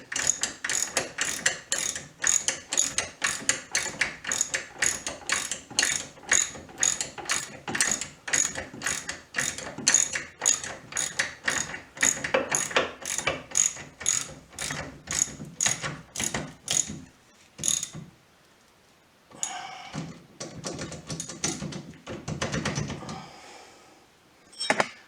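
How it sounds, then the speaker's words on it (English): A ratchet wrench with an extension, helped by vice grips, works on the snubber of a 1969 VW Beetle, giving a long run of rapid, even clicks up close before stopping, then a few scraping, fumbling sounds. "throw some vice grips on it, get an extension on the wrench, and it makes it go"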